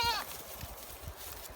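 A single short sheep bleat rings out at the start on a homestead, followed by quiet outdoor ambience with faint low thumps.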